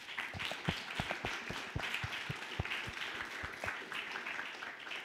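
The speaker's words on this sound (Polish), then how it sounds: "Wielkie brawa dla was wszystkich." Audience applause at a workshop in Lublin, a steady patter of many hands clapping, fairly faint and continuous throughout.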